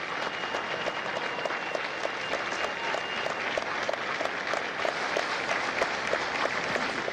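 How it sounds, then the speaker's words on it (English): Sustained applause from a large audience at a Marine Corps recruit graduation ceremony in San Diego, a dense, even wash of clapping lasting the whole stretch without a break. "Ladies and gentlemen, a round of applause for their dedicated service to corps and country."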